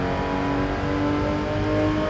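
A mid-engine Porsche in the racing game Gran Turismo 7 drives at speed, its engine note held steady and droning loud with a faint rising whine, without talk.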